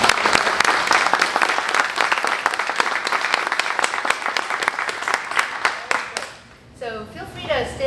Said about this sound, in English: I think we owe I-Sah a big round of applause.